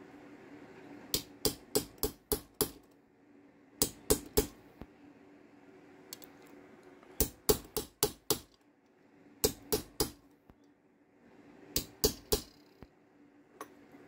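Chasing tool tapped with a hammer on a metal bracelet set in pitch, giving a tinny sound in quick clusters of sharp metallic taps separated by short pauses, close and clear with no talk.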